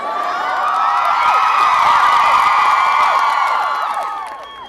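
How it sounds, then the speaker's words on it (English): Barnard graduates cheer at the Columbia University 2001 commencement, a loud, dense crowd roar full of shrill whoops and shouts that swells and then fades at the end. "It seems too bad to have your cheering drown out the name of your college"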